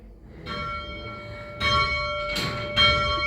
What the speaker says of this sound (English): let's have a look at your bell you're ringing